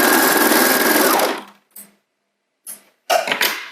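A sewing machine finishing the raw edge of pajama pants fabric runs loud and steady for about a second and a half, then stops, followed by a few short bursts of stitching.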